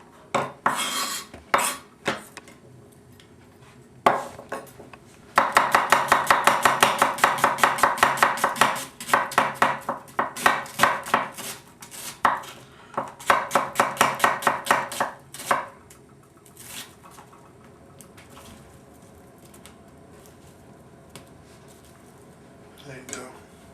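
A knife chopping onions into diced and julienne pieces on a board: scattered cuts, then long bursts of rapid, even knocks, close and crisp, with pauses between runs and some speech in the background.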